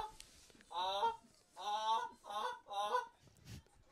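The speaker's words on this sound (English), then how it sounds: "Couple of geese migrating over Bearcat ball, or Bearcat softball field here on their way north for the cooler weather." Several geese honk as they migrate north over a college softball field during a game, four or five distinct calls in a loose rhythm, clear but somewhat distant.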